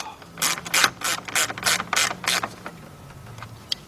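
A ratchet tightens two 10mm bolts on a Chrysler, giving close, rapid bursts of crisp metallic clicking in a quick rhythm that slows and fades near the end. No one talks.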